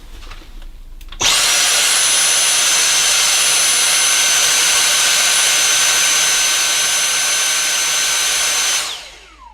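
Dyson V7 Trigger cordless stick vacuum cleaner switched on at maximum suction, a loud, steady high-pitched motor whine and airflow roar that starts abruptly after a quiet moment and holds nearly constant before cutting off at the end.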